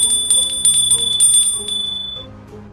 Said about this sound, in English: They would ring the bell every single day to let other people know that they are alive.